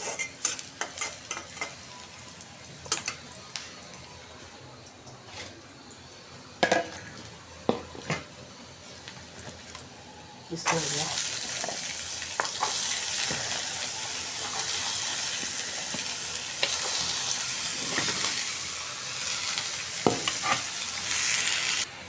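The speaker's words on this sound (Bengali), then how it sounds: "করলা ভাজিটা বসাই দিয়েছি আমি" Bitter gourd (karela) fries in a pan on a home stove, a steady sizzle that swells loud partway through, broken by scraping stirs and occasional clinks of a utensil against the pan.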